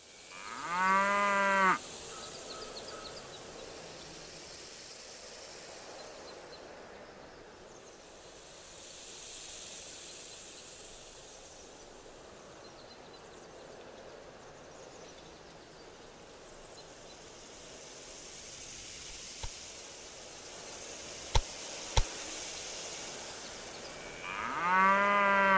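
Cattle mooing at a cattle operation in the Railway Empire 2 video game, a short low moo at the start and another at the end, over a soft steady ambient bed with a few faint clicks.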